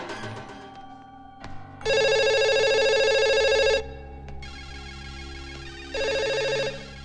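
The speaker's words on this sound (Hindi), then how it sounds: "इतनी देर से वो फोन बज रहा है" A telephone rings electronically in two long bursts separated by a pause, loud and close against a faint background hum.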